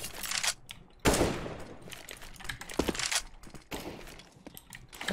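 Gunfire in the video game CS:GO, a burst of loud, sharp shots opening the clip, followed by further scattered bursts and clicks over about five seconds with no talking.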